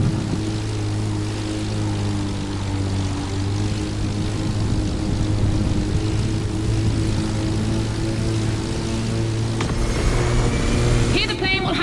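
A propeller airplane in the racing game The Crew Motorfest drones loudly and steadily with a deep engine hum, racing alongside a car over the full stretch and ending in a short burst of noise.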